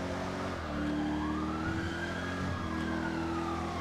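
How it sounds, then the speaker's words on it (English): A police siren wails with rising and falling pitch over a steady engine drone, sounding somewhat distant, with no voices. "I definitely hear sirens."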